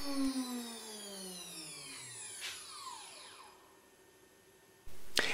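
A router with a tiny fret slotting bit cuts blind fret slots in a guitar fretboard, a high whining spin that sweeps down in pitch as it winds down, ending in a sudden burst of broadband noise.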